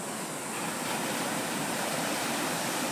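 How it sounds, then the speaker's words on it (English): Ocean waves on a Costa Rica beach roar in a steady, dense wash of surf under stormy weather, constant and fairly loud with no breaks. "These are great waves."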